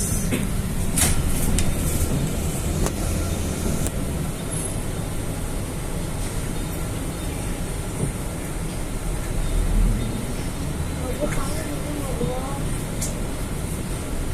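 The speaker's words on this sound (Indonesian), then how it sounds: "Bus ini merek Congtong" Inside a moving Zhongtong electric TransJakarta bus on the toll road toward Ancol, a steady loud road and motor rumble fills the cabin, with occasional rattles and a faint squeal; no one speaks in this stretch.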